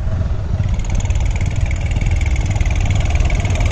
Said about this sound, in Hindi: तो भाइयों 24 गियर वाला ये ट्रैक्टर है, 12 रिवर्स 12 फॉरवर्ड, तो रोड स्पीड नापेंगे।